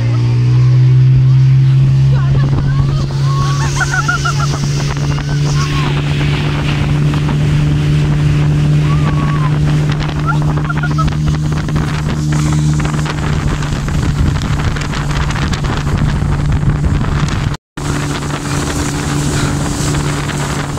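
A motorboat ride on the water at Head Marala near Sialkot, with a steady loud engine drone and heavy wind buffeting the microphone throughout, a brief dropout near the end.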